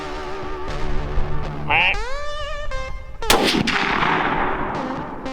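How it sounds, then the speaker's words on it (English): A single sharp, loud gunshot rings out outdoors during a party hunt in Iowa, cutting through earlier tonal sounds and followed by a lingering rumbling echo. "I just dropped 2 with 1 bullet."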